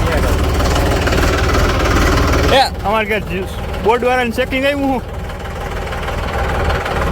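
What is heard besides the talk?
tractor engine running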